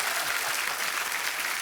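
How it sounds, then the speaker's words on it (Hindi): A television comedy show's studio audience breaks into thick, continuous applause, even and full throughout the short burst with no voices over it. "तो बड़ा जोरदार तालियां"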